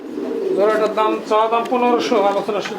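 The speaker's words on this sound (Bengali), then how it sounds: "দর্শক ভাই বোন দেখেন কবুতরগুলো খুব সুন্দর" Pigeons coo steadily at a pigeon market, with repeated rising and falling calls that follow one another through the whole stretch, close and fairly loud, backed by a low murmur of market crowd noise.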